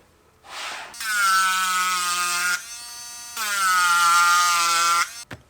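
Edge of a handmade leather wallet sanded with a small power sander, giving a loud steady high whine in two long bursts separated by a brief pause, close and alone.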